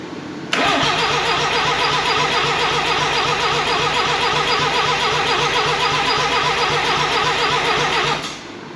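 An old race-prepared RX4 with a new engine cranks over and catches, giving a loud, close, steady churning roar that starts abruptly and holds almost unbroken until it cuts off near the end.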